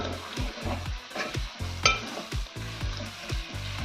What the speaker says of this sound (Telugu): గోంగూర మొత్తం చికెన్కి పట్టేలా కలుపుకోవాలి